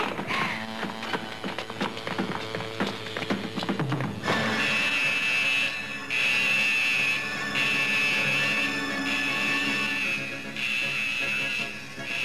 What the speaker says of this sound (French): Signal d'alarme.